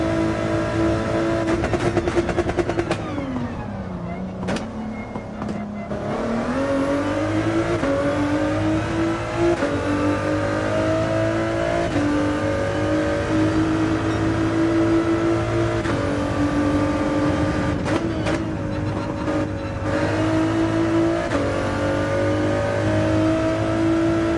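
Race car engine in a racing video game, a continuous loud drone that dips while braking and climbs again through long accelerations, with brief bursts of tire noise and no talking.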